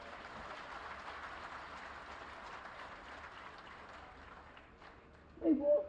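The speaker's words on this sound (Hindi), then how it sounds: "तो ताली धीरे क्यों बजा रहे हो?" A crowd at a Delhi government event claps faintly and unevenly from a distance, a soft, hissy patter that thins out before a brief louder voice near the end.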